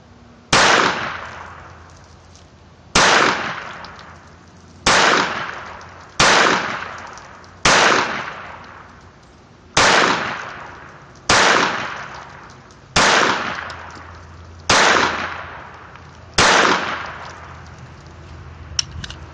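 Walther P22 pistol firing cheap ammo outdoors, nine sharp loud single shots spaced about two seconds apart, each with a short decaying echo.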